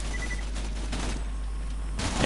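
Gunfire and an exploding gas canister in the shooter video game Borderlands 2 form a dense, loud volley of rapid shots, ending in a sharp burst near the end.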